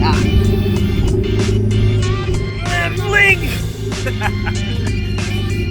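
A Ferrari race car idles and revs from inside the cabin, a deep steady engine rumble with a short rising rev in the middle, while people talk and shout loudly over it.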